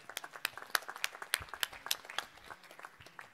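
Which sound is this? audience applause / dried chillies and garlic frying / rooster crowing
audience applause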